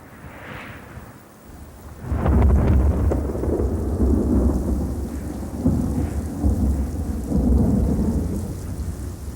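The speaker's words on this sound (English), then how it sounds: "Rain, unbroken days of rain, which cannot be easily absorbed by the charred soil" Heavy winter rain pours steadily over burned chaparral while deep thunder rumbles and rolls loudly through it, with no voices.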